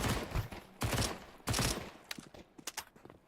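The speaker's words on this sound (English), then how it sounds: "SMGs running rampant." SMG gunfire in a Counter-Strike match: three loud, close bursts of rapid shots, followed by a scatter of sharper, fainter single cracks trailing off.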